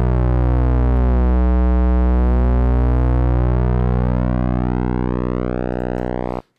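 A steady, buzzy synthesizer tone with a hollow, square-like timbre whose harmonics slowly sweep and shift, ending abruptly.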